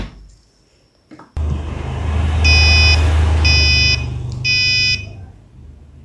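Buzzer on an ESP-based IoT parking sensor beeps in three loud, steady pulses over a continuous low electrical hum, no talking.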